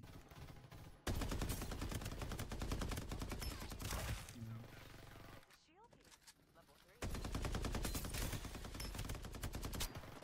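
AK rifle gunfire in the video game Farlight 84 rattles in long, dense automatic bursts, loud and close, broken by a brief lull before another sustained burst.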